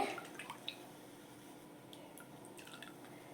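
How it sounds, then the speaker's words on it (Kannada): Cooking oil poured into a frying pan set out for deep-frying baby corn chilli; faint, soft liquid drips and trickles, with a few brief splashes near the start, then a quiet tail. "ನಾನೊಂದು ಬಾಣಲಿ ಇಟ್ಟಿದ್ದೀನಿ, ಅದಕ್ಕೆ ಎಣ್ಣೆ ಹಾಕ್ತೀನಿ"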